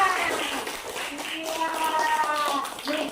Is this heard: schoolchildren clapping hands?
yes